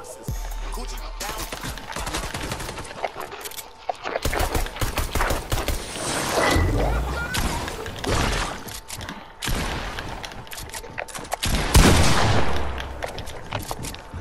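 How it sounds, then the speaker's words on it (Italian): Rapid bursts of automatic gunfire in the video game Fortnite, near and loud, with fusillades and single shots coming in dense clusters across the whole stretch, and faint voices talking in between. "No, io ti sparo."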